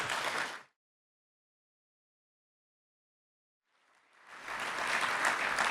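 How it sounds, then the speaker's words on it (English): Audience at a Franklin County Chamber breakfast applauding housing panelists, a short burst of clapping that stops abruptly, then after a silence a second, louder round of applause building up. "Can we give them one more round of applause?"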